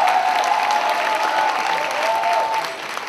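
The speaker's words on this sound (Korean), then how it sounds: "박수." A church congregation at an evening worship service claps loudly together, a thick sustained roar of many hands, with a faint tone humming underneath.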